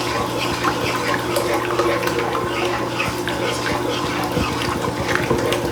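Broth poured into gravy in a pan for smothered pork chops, a continuous close splashing and trickling pour, fairly loud and steady for several seconds.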